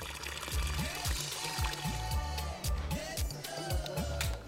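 Water poured from a bucket for bathing in a home without running water in Ghana splashes and trickles steadily, with a low rhythmic thudding underneath, moderately close and fairly quiet.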